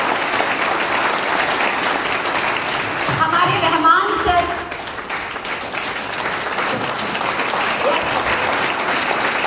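Sustained crowd applause at a live session at Jim Corbett honouring the management and coordination team, steady dense clapping throughout with someone speaking over it.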